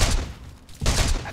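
Gunfire from a Mosin rifle in a video game, two loud, booming bursts with a short lull between them, heard alone and up close with no talking.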